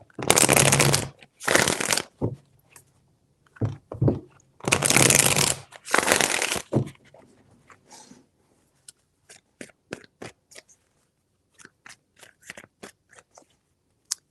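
A deck of tarot cards being shuffled up close in several loud riffling bursts, followed by quieter scattered taps and flicks of cards handled in near silence.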